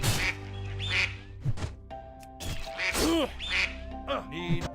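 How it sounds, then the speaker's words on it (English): Duck quacks stand in for the Wildstrike ability sound in World of Warcraft, a rapid run of loud, close quacks repeating in bursts over game background tones. "Or hey, here's a duck sound."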